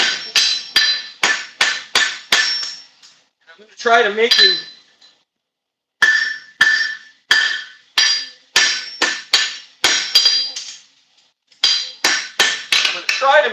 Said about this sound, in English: So here's I'm using the round head of the hammer. I'm knocking his cheek down.